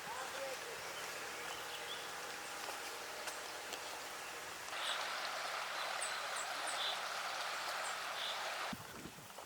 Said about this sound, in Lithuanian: girdisi upės čiurlenimas